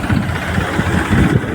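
A tractor engine runs at a steady idle-like drone beside a farm field of mung beans, close and continuous with a low rumbling vibration and no pauses.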